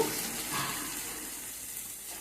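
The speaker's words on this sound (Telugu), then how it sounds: "నీళ్ళు ఎన్ని కావాలంటే అన్ని నీళ్లు పోసుకోవాలండి" Water poured into a pan of brinjal curry cooking on the stove, producing a steady, close, hissing rush that blends with sizzling, short and continuous with no voices.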